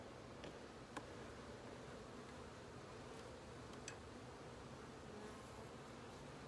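Honeybees buzz in a continuous, faint drone during a beehive inspection, with occasional light ticks and rustles and no speech.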